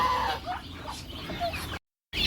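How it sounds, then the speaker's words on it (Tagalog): Ducks and a goose feeding at breakfast time give close, busy quacks and honking calls over a steady background, with a brief dropout before the calls resume. "So here are plenty of ducks and one goose at the same time."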